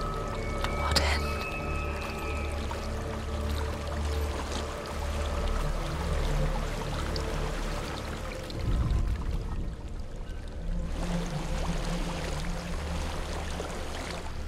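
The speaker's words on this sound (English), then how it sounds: "There's a waterfall." Steady rushing water of a waterfall in the video game Hellblade: Senua's Sacrifice, a continuous broadband roar with low rumble and a shift in texture partway through, no talk over it.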